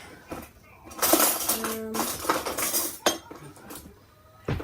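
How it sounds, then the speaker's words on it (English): A knife scrapes and clinks around the edges of a metal doughnut pan, several bursts of metallic scraping and tapping close by, separated by brief pauses. "I'm just gonna use a knife and cut around the edges of it and see how we go."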